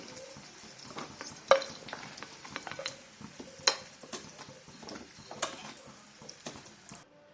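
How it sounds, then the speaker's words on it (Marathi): Soft sizzling of soya paneer frying in oil until golden, with occasional clicks and scrapes of stirring, quiet and continuous. "हे असंच बदामी कलरला तळायचं याच्यापेक्षा जास्त नाही तळायचं"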